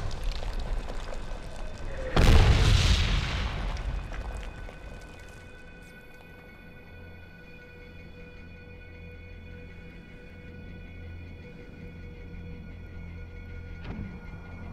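A single incoming mortar round detonates loudly in a Medal of Honor battle, a sharp heavy boom that fades into low ambient rumble, followed much later by a faint distant thud.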